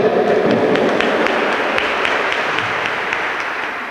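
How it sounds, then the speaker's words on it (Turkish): Applause from a crowd gathered at a sports club equipment donation event, a dense burst of many hands clapping that starts strong and gradually thins and fades over a few seconds. "Ben de sizleri alkışlıyorum."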